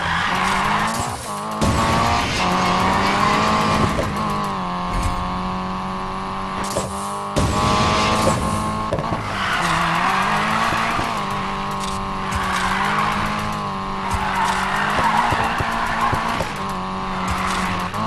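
Nissan Silvia drifting in Need for Speed Payback, with loud, sustained tire squeals and skids over a revving engine that rises and falls as the car slides through repeated corners.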